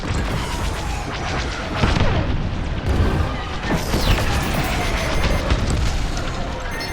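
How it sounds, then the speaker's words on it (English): Missile explosions in the Star Wars Squadrons space combat game, with heavy booming blasts around two and four seconds over a continuous loud roar of engines and game effects, with voices speaking over it. "Incoming missile! Close, but not close enough."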